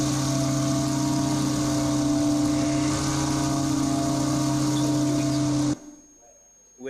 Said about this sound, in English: that was the loud noise of the V8 car engines